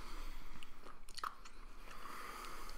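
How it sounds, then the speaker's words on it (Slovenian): A mouth chews a hot chili pepper, soft wet crunching and biting close to the microphone over a constant background hiss. "Še moram žvečiti."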